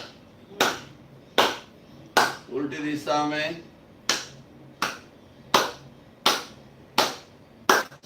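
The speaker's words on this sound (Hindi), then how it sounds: "हथेली में गड्ढा, संपुट का आकार गोलाकार घुमाते हुए ताली बजाएं।" Hands clapped with cupped, hollowed palms during a circular-motion energy exercise, about ten sharp, evenly spaced claps in a slow steady rhythm, with a brief spoken instruction partway through.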